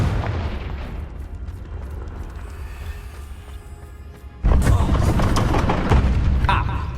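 A Confringo blast spell explodes in the Hogwarts Legacy video game, a deep rumbling boom surging loudly over steady game noise midway through, with a voice speaking in the background.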